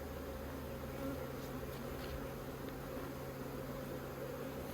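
Honeybees buzz steadily in an opened hive during a beekeeping inspection in Australia, a dense, even drone close by and continuous throughout, with no talk.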